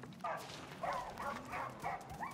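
Dogs barking in a video game, several short mid-pitched barks repeating at irregular intervals over a low background, moderately loud and without talk.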